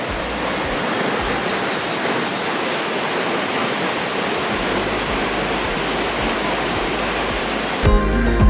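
A waterfall on Laos's Bolaven Plateau roars with a dense, steady wash of falling water, loud and close, and the noise holds unbroken for most of the clip.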